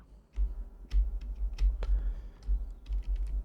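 Fingers type on a computer keyboard, a quick irregular patter of close, crisp key clicks.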